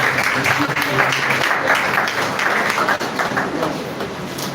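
Seminar attendees at a foundation launch give a round of applause, a steady wash of many hands clapping at moderate loudness, with some speech mixed in.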